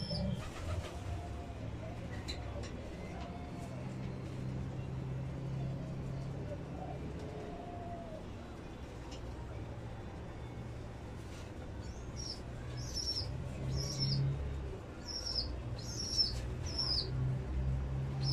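Tame pigeons coo softly in a loft while a squab that already feeds itself keeps calling to its parent for food, with repeated high cheeping bursts toward the end over a low, steady murmur.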